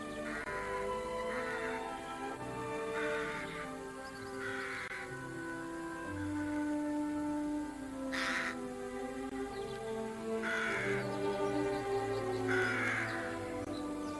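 Rooks caw at a rookery as the birds return at the turn of the year, harsh calls breaking out repeatedly every second or two, some nearer and louder, over a soft, tonal background with no voices.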